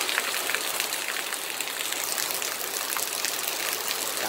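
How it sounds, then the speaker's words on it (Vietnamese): Heavy rain pours down in a steady, dense hiss, close and loud throughout with no break and no voices. "mưa lớn lắm các bạn thấy không"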